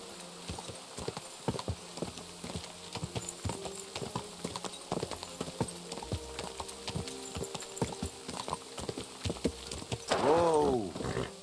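Steady clip-clop of a horse's hooves on a road in the game Kingdom Come: Deliverance II, a brisk even rhythm near and clear, ending with a loud whinny.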